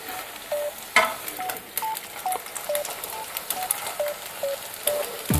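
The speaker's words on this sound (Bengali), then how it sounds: "এভাবে গাওয়া ঘি দিয়ে যদি একটু ফ্রাই করে নেন" Patishapta pitha, a Bengali sweet crepe, frying in ghee, a soft steady sizzle with scattered light scrapes and taps of a spatula; no voices.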